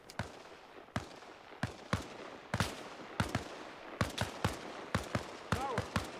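Scattered gunshots in a modern military shooter game, a dozen or so sharp cracks at irregular intervals, some near and punchy, others softer, over a low ambient background.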